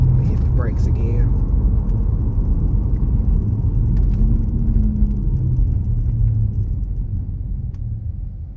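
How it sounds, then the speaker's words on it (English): A car rolls over rough terrain with its windows up and brakes partway through, giving a continuous low rumble of tyres and suspension. A few faint clunks and squeaks cut in, and the rumble eases slightly toward the end. "Let me roll up the window. Let me hit the brakes again."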